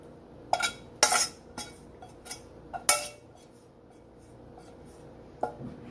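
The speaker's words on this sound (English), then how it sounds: "And then I'm gonna add the noodles that I pre-cooked in there" Pre-cooked noodles go into a pan of Alfredo sauce with a few sharp metal clinks and scrapes of a utensil against the pan, scattered and close, then a quieter stretch with a final clink.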